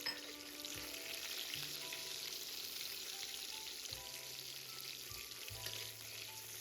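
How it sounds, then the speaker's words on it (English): Onion pieces crackle and sizzle in peppercorn oil in a wok, a dense close frying hiss broken by a few scraping stirs of the spatula, with no voices. "Add the onion pieces to the wok"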